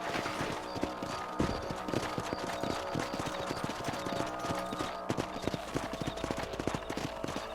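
Hooves clip-clop in a quick, steady rhythm, several horses trotting together at close range over a low background hum, in the video game Red Dead Redemption.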